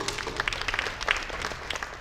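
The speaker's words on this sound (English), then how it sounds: "now a big round of applause from Franziska and for her participation" Applause from a forum panel audience: a short, moderate patter of hand claps filling the room evenly, with no voices over it.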